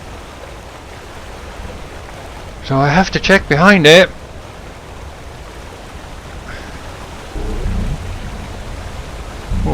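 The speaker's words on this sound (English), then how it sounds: "But there is a waterfall" A waterfall in the video game Skyrim, in the Dragonborn expansion, gives off a steady rushing hiss throughout. Someone speaks briefly over it.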